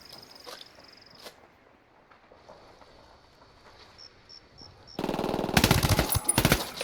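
Automatic gunfire from Ghost Recon: Wildlands bursts in loudly after a quiet stretch of faint game ambience and insect-like chirps, a dense rapid volley filling the last couple of seconds.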